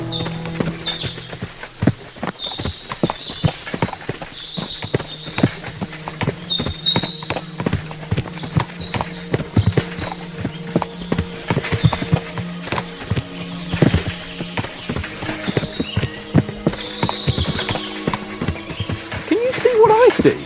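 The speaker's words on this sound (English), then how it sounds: "What a lot of horses!" Many horses' hooves clip-clop in overlapping, irregular beats in the medieval game Kingdom Come Deliverance II, with an occasional neigh and voices talking over the steady hoofbeats.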